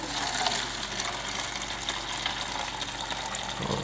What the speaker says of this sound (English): I'm gonna get me a little cup real quick. Get some water in here.